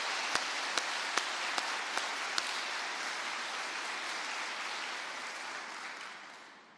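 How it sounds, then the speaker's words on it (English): An audience in a NASA address hall applauds, a steady broadband wash of clapping that holds for several seconds before tapering off, with a few sharper individual claps standing out near the start. "Would you two please stand up so we can give you some applause?"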